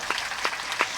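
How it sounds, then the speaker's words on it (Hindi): An audience at a Ram Katha religious gathering claps in a brief, dense burst of applause that stays steady throughout. "इन बेटा बेटियों को जोरदार तालियां बजाओ आप"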